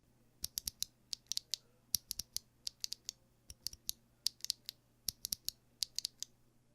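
Typing on an Epomaker NT68 mechanical keyboard with clacky, hot-swappable switches produces crisp, sharp clacks in uneven bursts, close and fairly quiet, over a faint steady hum.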